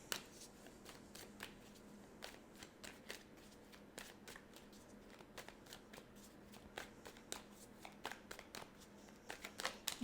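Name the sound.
tarot cards being shuffled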